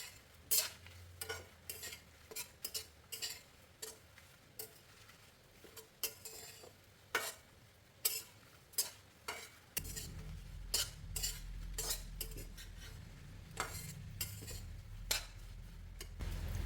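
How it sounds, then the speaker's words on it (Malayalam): Copra and dried fish dry-roasting over low heat for dry fish chammanthi podi, with a utensil scraping and stirring in a steady run of clinks and scrapes, joined midway by a louder, continuous low sizzle. "ഇത് കരിയാണ്ട് ചെറിയ തീയിലിട്ട് വറുത്തെടുക്കണം"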